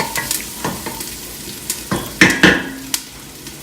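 Onions browning in extra virgin olive oil for a Bolognese sauce, with a steady sizzle and repeated scraping stirs against the pan, heard up close with no talking.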